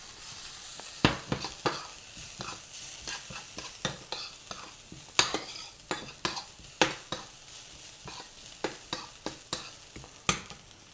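Vegetables for a vegan crumble with African spices brown in a hot pan, giving a steady soft sizzle broken by frequent sharp scrapes and knocks from stirring, close-up with no voices.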